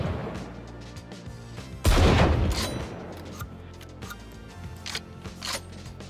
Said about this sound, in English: Both the first and second shot actually have a unique sound